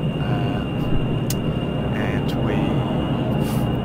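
Jet-engine aircraft in the Kerbal Space Program video game gives a steady, loud, broadband roar that holds for a few seconds, with a continuous whine above it.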